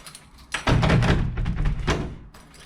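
A front door being shut and locked after a repair, giving a solid thud with a rattling latch and bolt sounds across about two seconds, close and fairly loud, with no talk.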